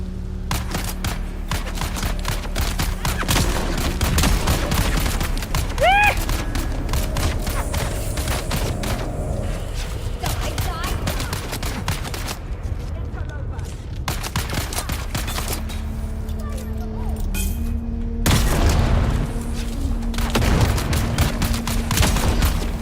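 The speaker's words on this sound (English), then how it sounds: "stop throwing grenades at me" Video game combat with grenade explosions and gunfire keeps up a dense, continuous barrage of shots and thumping blasts, loud and close, with game tones and effects woven through.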